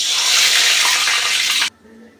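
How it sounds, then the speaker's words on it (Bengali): Dry red chillies and nigella seeds hit hot rice bran oil in a kadai, a loud, dense hiss of sizzling that holds for over a second and a half, then cuts off sharply to near quiet. "ফোড়ানোর জন্য দিয়ে দিচ্ছি শুকনো লঙ্কা আর কালো জিরে"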